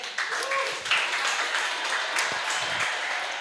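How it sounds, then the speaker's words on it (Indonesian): Audience applause for a football coach on an Indonesian talk show, a steady wash of clapping with a few scattered louder claps, heard alone at moderate level. "Tepuk tangan dulu dong untuk Sintayong."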